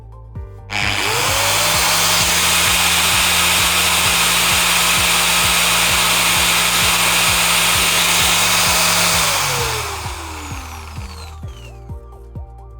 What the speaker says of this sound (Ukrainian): Болгарка в нас знову зібрана, і тепер ми її перевіримо на балансування.